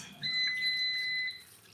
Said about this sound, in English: the air fryer just beeped